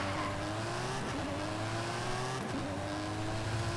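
Aston Martin with a V12 engine swap, driven in Forza Horizon 5, holds a steady loud drone with rising engine pitch and faint tire noise, alone with no talk.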